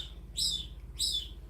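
Two bright, high chirps from a bird, evenly spaced about half a second apart and fairly close, over a low steady background hum.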